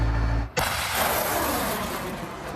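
An LRU rocket launcher fires: a single loud, sharp launch blast erupts after a brief rumble, followed by a long roaring, hissing whoosh that slowly fades.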